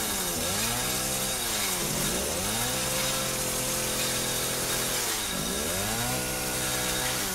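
Chainsaw in the horror video game Resident Evil 7 revs and cuts through something, loud and close, with its pitch rising and falling in repeated surges across the clip and no voices over it.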